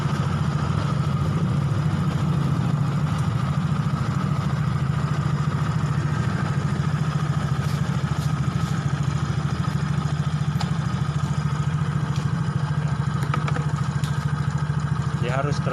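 An X-Ride motorcycle with a sputtering fault idles during a workshop check, a loud, steady low engine drone running unbroken throughout, with faint clatter on top.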